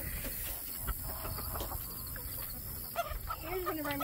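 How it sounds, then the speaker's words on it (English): Soft clucking from a small silkie rooster among steady outdoor background noise, with brief higher chirping calls near the end. "here's one of our new little silky roosters"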